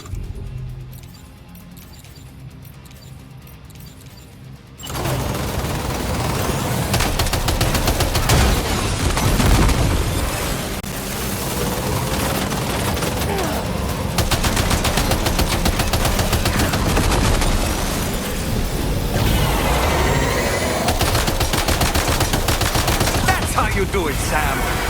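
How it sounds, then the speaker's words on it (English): Rapid gunfire rattles out while a vehicle is being driven in the video game Death Stranding 2. The shots form a dense, loud, continuous burst over the engine roar for about twenty seconds, following a quieter opening. "You should be capable of shooting while driving."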